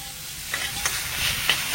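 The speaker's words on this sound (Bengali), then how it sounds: "পনিরটা নেড়ে ছেড়ে হালকা করে একটু ভেজে নেব।" Paneer sizzles steadily in a hot pan while a utensil scrapes and stirs, with several sharp clicks against the metal.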